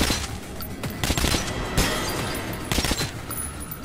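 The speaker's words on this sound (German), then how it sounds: "Hey, der schießt auf mich." Enemy gunfire in Metro Last Light rattles in repeated loud bursts and single shots, close and sharp, with brief gaps between volleys.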